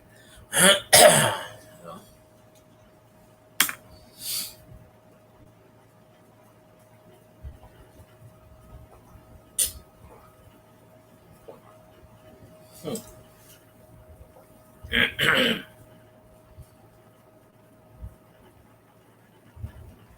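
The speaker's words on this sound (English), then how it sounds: "I'm gonna cough up a lung." A few sharp coughs and throat-clearing bursts, close by, separated by quiet pauses with faint background hum.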